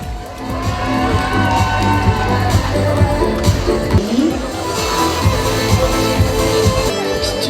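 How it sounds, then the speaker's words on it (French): Audience at a regional beauty pageant fashion show in France applauds and cheers candidates, some with fan clubs: a loud, continuous crowd roar with whoops, shouts and clapping, plus music or voices mixed underneath. "les applaudissements sont très fournis."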